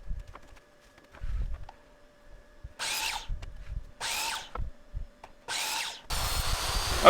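Power tool cutting cedar fence picket wood in several loud, close bursts of whining, rasping noise separated by short pauses and light handling knocks.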